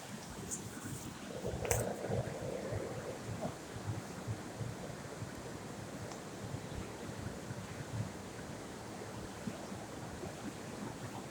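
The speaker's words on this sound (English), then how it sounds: "That's some water." A river flowing along a walking route, heard as a steady, close wash of moving water with some wind buffeting the microphone and a brief louder splash near the start.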